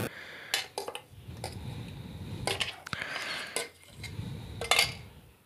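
Mint chutney is scooped from a pan into a bowl, with a few sharp clinks and scrapes of a spoon against metal and ceramic and soft wet dabs between them, close and fairly quiet with no voices.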